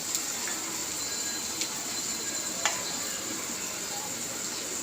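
Chopped onions fry in a pan for a Bengali prawn and bottle gourd greens dish, giving a steady, even sizzle with a few faint clinks of a utensil against the pan.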